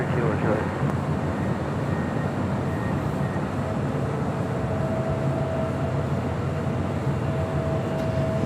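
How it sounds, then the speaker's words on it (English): An old ex-TWA Delta Boeing 757-200 arriving from Boston and landing on the north side at LAX, a broad, steady jet roar that rumbles on throughout, with chatter running underneath. "that was Delta Airlines flight 473 coming in from Boston on that old TWA 757-200"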